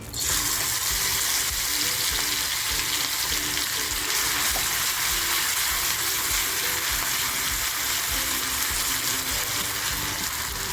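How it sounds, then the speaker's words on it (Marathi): Chilli-garlic thecha fries in hot oil in a small kadhai, a loud, dense, continuous sizzle that holds steady throughout with no voices over it. "आता जो हा टेचा केला आहे ना तो मी थोडा अगोदर तेलात टाकते"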